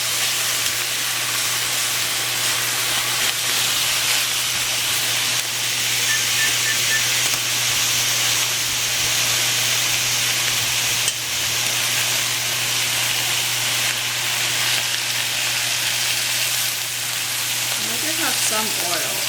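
Rapini sizzles steadily in hot oil in a pan, a loud, continuous frying hiss that holds without a break, with a brief stirring clatter near the end.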